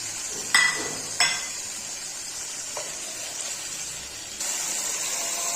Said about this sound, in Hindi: प्याज को भी हम हल्का सा भून लेंगे।